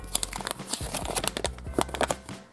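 A crinkly plastic surprise packet from the Enchantimals toy series is handled and torn open, giving close, loud, irregular crackles and rustles in quick bursts throughout.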